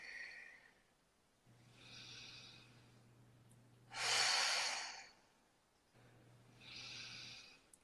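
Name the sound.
deep breathing in during guided meditation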